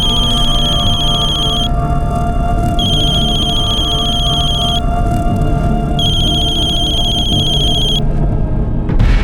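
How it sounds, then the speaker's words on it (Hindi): A telephone rings in three long electronic bursts separated by short pauses, loud and clear over a faint background hum. "बेल तो जा रही है लेकिन फोन नहीं उठा रही है"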